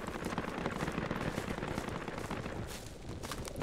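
Distant, muffled gunfire in Project Reality crackles continuously in a dense rattling wash, like a far-off firefight, with no talking.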